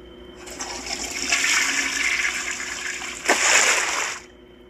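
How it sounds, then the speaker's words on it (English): A toilet flushes in a video game, a loud rushing swirl of water that starts quickly, swells with a sharper surge near the end, then cuts off. "I'm flushing all this down."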